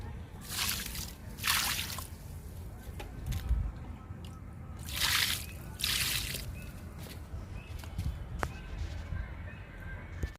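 Liquid fertilizer splashes and trickles onto potted plants in a few short pours, with quieter gaps and faint rustling between them, close by.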